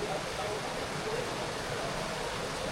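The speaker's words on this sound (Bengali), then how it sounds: "শ্যাম মানে একটা ঝর্ণা আছে এখানে।" A waterfall pours over a cave in Meghalaya as a steady, even hiss of rushing water, faint and unbroken.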